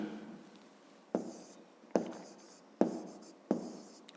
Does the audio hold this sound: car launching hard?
no